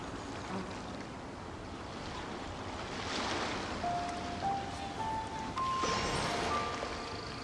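Ocean waves wash and hiss in the Genshin Impact video game, a soft continuous surf that swells slightly midway, with faint tonal chimes rising above it.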